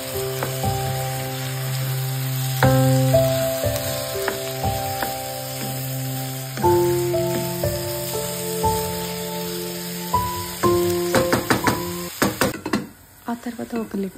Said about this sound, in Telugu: సో అవి మంచిగా మిక్స్ చేసేసి వాటిలో ఫ్రై చేస్తూ ఉండాలి.